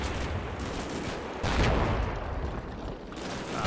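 Gunfire in the video game Combat Mission Shock Force 2: a sustained, rough crackle of distant small-arms fire and rattling bursts, swelling louder in the middle before easing, with no voices over it.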